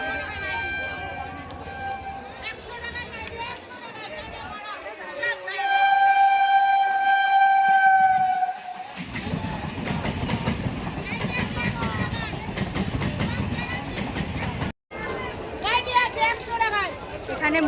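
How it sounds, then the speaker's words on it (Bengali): At a busy level crossing near a market, a train rolls past close by with steady rumbling wheel clatter, and a long horn blast cuts through for a few seconds. People talk over the noise throughout. "তার ট্রেন আসছে, তারপর পার হয়ে কথা বলছি"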